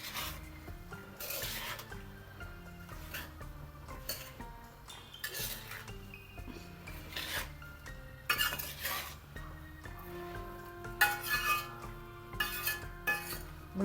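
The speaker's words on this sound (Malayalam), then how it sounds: "ഇതെല്ലാം നല്ല മിക്സ് ചെയ്തെടുക്കാം." Amla pickle ingredients being mixed in a metal pan or bowl, with repeated clinks and scrapes of a spoon against the vessel and a faint sizzle beneath. The sounds are close and irregular, with no voices.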